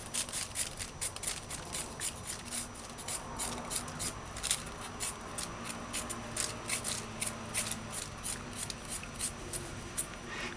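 A knife cutting a carrot into little strips, a quick run of crisp, close scraping cuts in a steady, uneven rhythm with soft rubbing between strokes.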